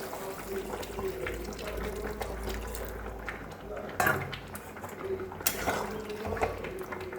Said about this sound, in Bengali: এখানে আমি গরম জল দিয়ে দিচ্ছি